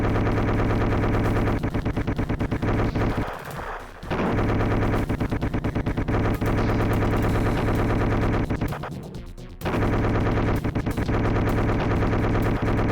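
Vulcan minigun in a shooter video game firing in long continuous bursts, a loud dense rattle of rapid shots with two brief pauses between bursts.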